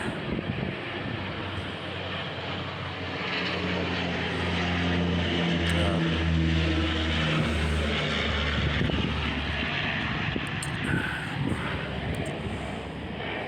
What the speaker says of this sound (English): hold on, I got a plane coming over.